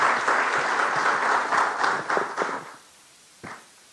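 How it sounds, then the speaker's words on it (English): Audience applause, a dense burst of many hands clapping that fades out, followed by a few scattered claps. "Allow me request that we give the governor another resounding applause."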